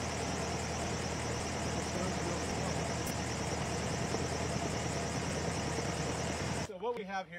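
A Swiss frost-protection wind machine in an orchard block, driven by a Cat diesel engine, roars with a steady loud whirring drone and engine rumble throughout, then cuts off abruptly near the end as a voice begins speaking.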